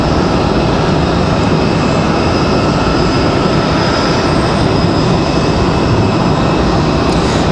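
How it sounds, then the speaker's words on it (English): A CRJ regional jet departs Raleigh Durham airport, its engines a loud, constant broadband roar with a high whine, close and unbroken for the whole stretch. "Looks like we've got a CRJ for departure."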